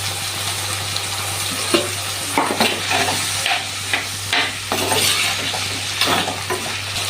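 Diced potato with salt sautéed in a pan for a prawn chili curry, a steady sizzle with scraping spoon strokes at irregular intervals, fairly loud and close, no talking.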